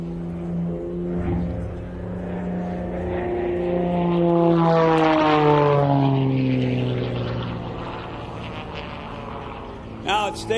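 An aerobatic propeller plane tumbles over the runway at an air show, its engine droning and rising as it passes with a sweeping Doppler shift and then fading into the distance, while an announcer talks over it.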